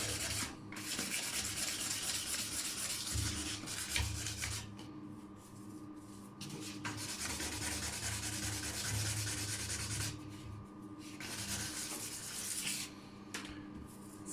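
Steady abrasive sanding on the repaired surface of a damaged bathtub, a continuous close rasping rub with brief pauses and changes in stroke, heard alone without talk.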